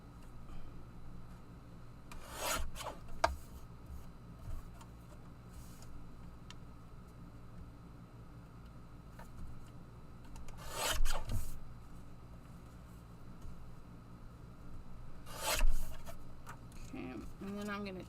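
A craft item is trimmed down with a rasping, filing sound that comes in three short bursts separated by quiet stretches, with faint background hum.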